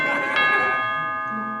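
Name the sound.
doorbell ringing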